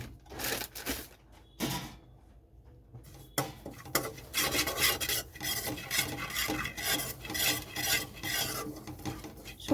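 Semolina being dry-roasted in a hot, dry wok and stirred, giving close, repeated rough scraping strokes in an uneven rhythm, with a brief quiet pause early on and no talking.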